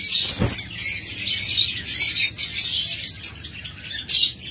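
Many caged lovebirds chirp and twitter in a dense, overlapping chorus of high, sharp calls, continuous and fairly close, with a brief low thump near the start.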